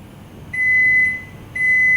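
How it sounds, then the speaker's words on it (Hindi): A BOC 606 Turbo built-in microwave oven sounds two steady electronic tones at the end of a function, each about half a second long, clear and close over a quiet hum. "आपका फंक्शन खत्म होने के बाद 5 बीप्स के साथ अवन बंद हो जाएगा।"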